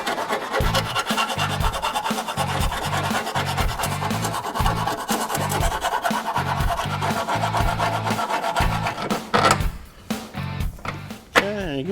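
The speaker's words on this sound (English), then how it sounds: "So you're gonna have to basically grind these holes, just open them up a little bit so it moves freely." Metal is ground to open up the holes in Mustang caster camber plates. A steady run of rhythmic rasping strokes sounds close by, then breaks up into irregular scrapes toward the end.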